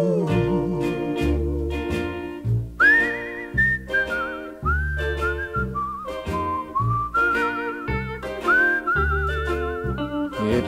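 Whistled melody in the style of a 1960s pop song, a bright tune carried over steady band accompaniment with bass and rhythm, phrases rising and sliding from note to note throughout.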